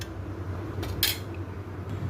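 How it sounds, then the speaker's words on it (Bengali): Pieces of pomfret fish cooked in mustard-poppy seed paste are served onto two plates, with a couple of faint, brief clinks of a utensil against a plate over quiet kitchen background noise. "দুটো প্লেটে তুলছি"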